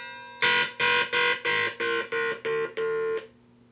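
An electric guitar lead effect: seven loud, buzzy beeping notes in quick regular pulses, held clear and close with no talking.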